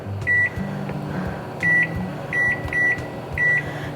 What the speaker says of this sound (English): we're gonna set our timer for 9 minutes